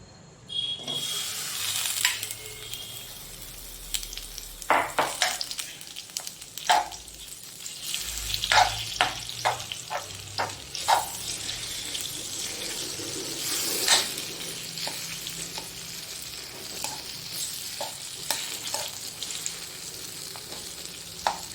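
Soft pitted dates fry in ghee with a continuous low sizzle, while a spoon scrapes and clicks against the pan in irregular bursts, close and moderately quiet, with no voices.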